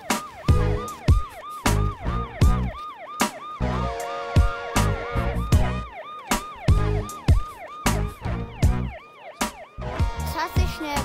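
Toy ambulance siren among Bruder toy vehicles, a loud wailing emergency tone rising and falling repeatedly and close by, broken up by sharp clattering knocks throughout.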